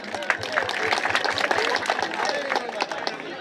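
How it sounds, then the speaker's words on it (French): Applause from an audience at a student association gathering, a steady patter of clapping with crowd voices and talk mixed in. "Vos applaudissements s'il vous plaît"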